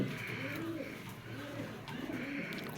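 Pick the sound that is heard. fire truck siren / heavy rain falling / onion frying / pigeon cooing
pigeon cooing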